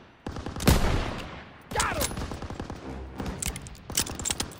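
Dense gunfire and machine-gun bursts aimed at enemy MG nests in the video game Call of Duty: WW2, with loud sharp volleys, a heavy blast near the start and repeated crackling shots throughout, overlapping shouted voices.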